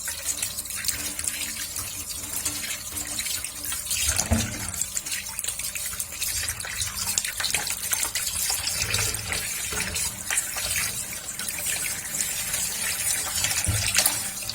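Running tap water pours steadily over meat being washed, a continuous splashing rush with uneven bursts as the pieces are turned under the stream, close and fairly loud with no talking.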